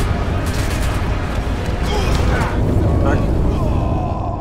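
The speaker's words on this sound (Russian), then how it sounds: "Меня убил взрыв." Explosions and gunfire boom through a Sniper Elite V2 Remastered battle, a loud continuous roar of blasts and rumble with a brief spoken word in the middle.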